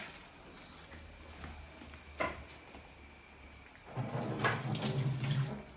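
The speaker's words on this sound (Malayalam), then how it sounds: "ഇതൊന്ന് കഴുകിയിട്ട് വരാവേ" Curry leaves are rinsed under a running kitchen tap. Quiet room ambience gives way to a close, splashing gush of water for the last couple of seconds, with a brief knock just before.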